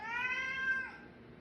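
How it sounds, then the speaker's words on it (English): A single drawn-out cat meow, close and clear, rises then fades over about a second, heard alone without talking. "The undisputed king of meow, the charter member of the Million Meow Club"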